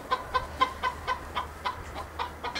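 A free-roaming hen clucks in a steady series of about ten short, evenly spaced calls, close and clear over faint background hum, with no talking.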